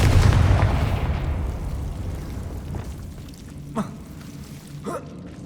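Confringo blasting spell exploding in the Hogwarts Legacy video game, a loud booming burst at the start that rolls off into a long rumbling decay, followed by two faint short thuds.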